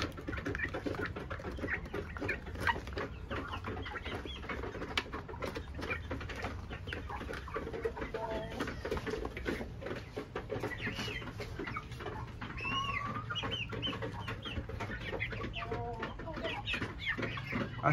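Broiler chickens in a small flock of about fifty birds cluck and murmur continuously in their pen, a dense steady chorus of overlapping clucks with no one speaking.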